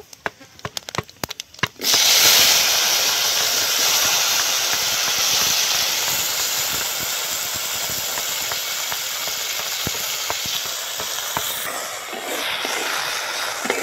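A sharp, loud sizzle starts suddenly after a few light crackles of five-spice seeds, then okra keeps up a steady, intense frying hiss in hot oil.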